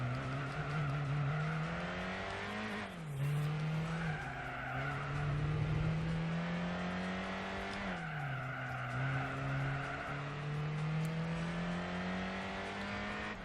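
Engine of an Alpine A110 race car in Gran Turismo 4, revving steadily and rising through the gears, with two clear gear-change dips and tire squeal during cornering; loud and continuous, with no talk.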